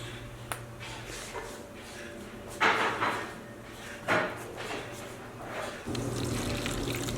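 Water from a sink poured into a dry potted houseplant, brief splashing and trickling bursts over a steady low hum of laundry running in the background.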